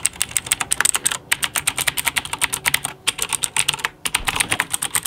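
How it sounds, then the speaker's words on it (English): Rapid clacking keystrokes on a Razer BlackWidow mechanical keyboard at a home computer, close and crisp, an uneven burst of typing with two brief pauses. "This keyboard is a Razer Black Widow keyboard."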